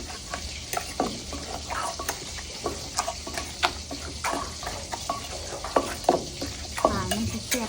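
Bamboo shoot soup with seasoning is stirred in a pot, giving repeated scraping and clinking strokes over a steady low simmer, close and moderately loud.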